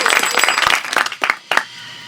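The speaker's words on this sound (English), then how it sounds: "Everyone, big round of applause." A studio audience claps for a comedy podcast, a close burst of applause that thins into a few scattered claps and then fades.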